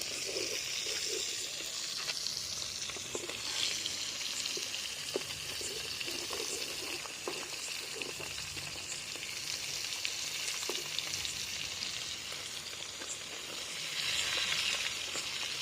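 Koi fish frying in a pan, a continuous crackling sizzle with occasional stirring clatter, steady and close throughout, with no talking.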